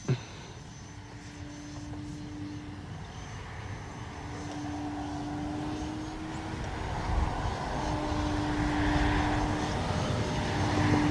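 A small Arrows RC Bigfoot model airplane's propeller motor whines steadily as it takes off from grass, rising and falling in pitch as it climbs away, fairly distant, with outdoor background noise.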